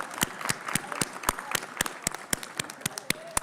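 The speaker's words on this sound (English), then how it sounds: "One more hand of applause." Sparse, quiet applause rises from the audience at a college convocation ceremony, with individual claps landing in a loose, fairly regular rhythm and no dense crowd roar.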